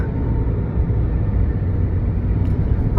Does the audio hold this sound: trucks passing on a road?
yes